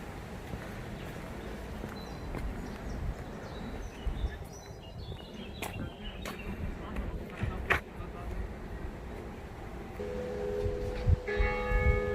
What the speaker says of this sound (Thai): เสียงระฆังวัดนะจ๊ะ